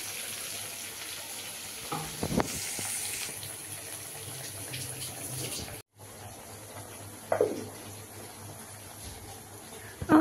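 A spiced vegetarian dish fries in a pan with a soft, continuous sizzle, broken by a few scraping stirs, close by and fairly quiet, with a short cut partway through.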